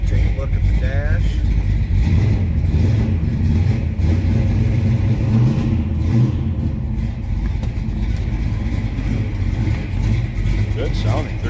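A 1970 Dodge Dart Swinger's 360 V8, warming up after a cold start with a lumpy cam, rumbles loud and close in a deep steady idle with light revs, someone talking over it.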